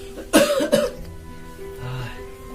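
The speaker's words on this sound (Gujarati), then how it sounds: "ઉધરસ વધારે આવે તમે?" A man coughs two or three times in a quick, harsh burst, loud and close, then his throat settles into quiet with faint background hum.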